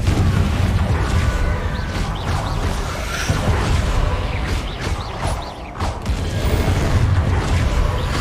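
Spell blasts and crashing impacts from the fire-blast Confringo spell in the Hogwarts Legacy video game, a loud, dense barrage of booms and bursts filling the whole stretch with little pause.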